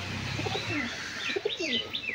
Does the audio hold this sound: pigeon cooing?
yes